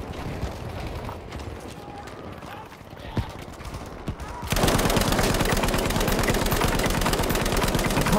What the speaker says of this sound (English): we're gonna use the Lewis gun now